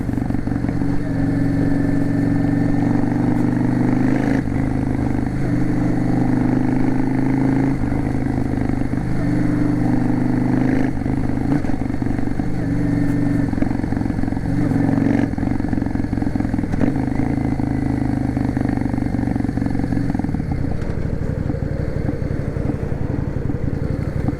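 A Yamaha V Star 650 Classic motorcycle cruises along a road, its engine a loud, steady low drone heard close up for the whole stretch with faint rattles and wind.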